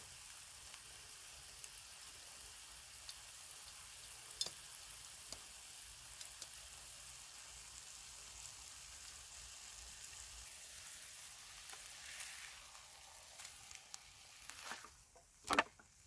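Rib eye steaks fry in a non-stick pan over a homemade squirrel cooker, giving a faint, steady crackling sizzle with a few sharper pops and a louder burst of spatter near the end.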